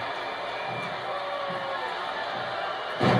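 A wrestling crowd at the SummerFest event roars in a steady, dense wall of noise that keeps going throughout, with a louder burst of cheering flaring up right at the end.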